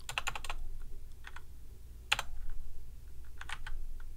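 Computer keyboard typing comes in short bursts of quick key clicks, separated by pauses, against a low steady background hum while coding.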